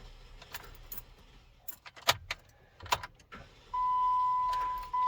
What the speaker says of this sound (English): You hear kind of that clicking, but it just never turns over.